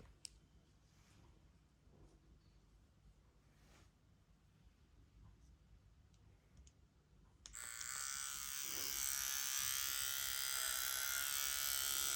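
An electric hair clipper used to shave a head bald as a prank. After quiet rustling and faint clicks, the clipper switches on abruptly partway through and buzzes loudly and steadily up close until the end.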